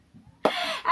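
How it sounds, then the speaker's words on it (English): Someone clears their throat nearby, a short harsh burst after a near-silent start, followed by a second brief rasp at the end. "let me just clear my throat"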